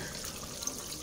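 Steady running water from a kitchen tap, poured for dissolving flour to thicken a sauce while cooking sautéed shrimp paste; a constant close hiss with no pauses.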